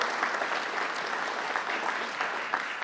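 An audience at a city state-of-the-city address claps in a steady, dense round of applause that fills the whole brief moment without speech on top.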